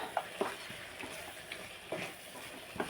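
Chicken fry cooking in a pan for a Sunday prawn biryani meal, with faint sizzling and occasional soft stirring clinks and scrapes, quiet and close with no talk.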